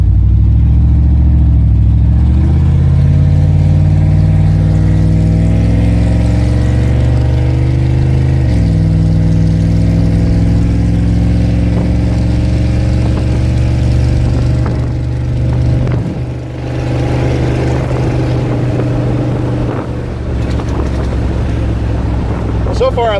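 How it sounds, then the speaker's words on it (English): A Chevrolet Silverado pickup with a new 3-inch exhaust drones steadily with a deep, throaty rumble, pitch rising and falling as it accelerates through gears; wind buffets the microphone. "just got the 3-inch exhaust put on, upgraded from 2 3/4, and this is the first test drive."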